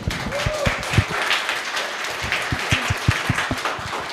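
Scattered applause from an audience at an anniversary event, uneven claps of moderate loudness heard from a short distance, continuing without a break.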